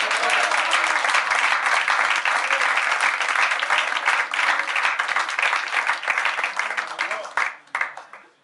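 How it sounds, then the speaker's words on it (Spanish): A church congregation claps together during a service, loud and sustained applause that fills the room before trailing off near the end. "¿Cuánto le dan un aplauso al Señor?"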